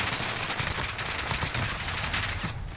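A PP19 Bizon in Modern Warfare fires in a sustained, loud burst of rapid shots, tightly packed and close, continuing without a break.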